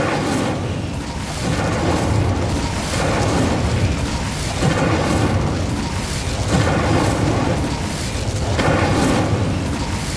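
Fiery spell blasts from the Incendio fire charm in the Hogwarts Legacy video game on PlayStation 5, a loud, dense run of booming bursts and crackling whooshes repeating every second or two with no pause.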